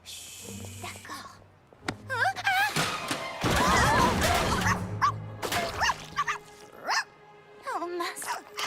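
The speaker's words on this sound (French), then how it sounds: "Désolée pour tout ce vacarme. Le bébé chien a renversé la peinture." A puppy knocks over a paint pot in a cartoon scene, producing a loud, clattering crash burst amid high cartoon voices and yelps.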